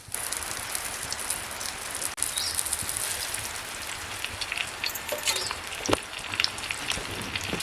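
Masala-coated mahseer fish frying in hot oil in a pan, a dense, steady crackling sizzle with scattered sharp pops, close and continuous, with no one talking.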